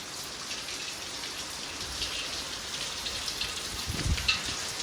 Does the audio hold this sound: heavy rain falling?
yes